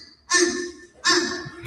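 A person imitates a fish crow with two short, nasal, hoarse calls about a second apart, close and fairly loud, with no other sound in between.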